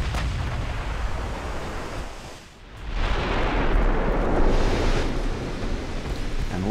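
Heavy battleship guns firing in a naval battle in the game Ultimate Admiral Dreadnoughts, loud rumbling booms that swell and roll on, with a brief lull partway through and no talking.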